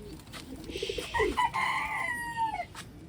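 A rooster crows once in a long, rising and falling call, close and loud, after some softer clucks and cooing from birds in a pigeon loft.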